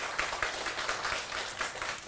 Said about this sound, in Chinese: 来给他们鼓掌一下。